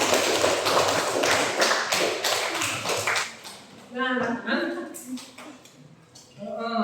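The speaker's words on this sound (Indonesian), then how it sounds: "Ya, tepuk tangan buat semuanya." Students clapping together for everyone in a classroom: a brisk patter of hand claps for about three seconds that fades out, followed by overlapping voices talking.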